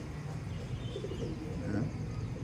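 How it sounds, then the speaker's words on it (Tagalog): Soft, low coos from pigeons in flight drift over a steady outdoor hum, faint and somewhat distant, with no talking. "taas ang ibon natin o. Taas na lipad o."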